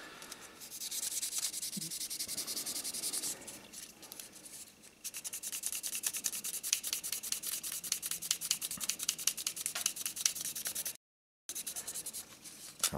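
Steady scratchy rubbing of sandpaper over the painted body of an Ebbro 1/24 scale Citroen DS 19 model, continuous hiss with brief pauses, close and fairly loud.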